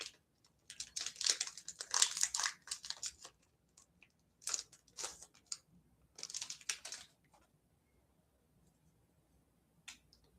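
A deck of Yu-Gi-Oh! trading cards is shuffled by hand in short bursts of crisp riffling and slapping, separated by pauses, close and fairly quiet.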